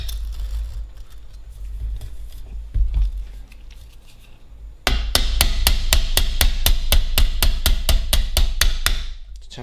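A hammer taps a pin through a brake spring, held in place with a pry bar. After a few scattered knocks comes a fast, even run of about fifteen sharp metallic strikes, close and loud.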